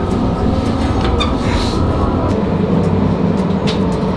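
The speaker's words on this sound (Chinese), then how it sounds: "这边呢还可以体验开电车哟。" An electric train in Japan's Kitakyushu Kanmon area gives a continuous, fairly loud low rumble, heard close as if from on board, with faint clicks and squeaks over the steady drone.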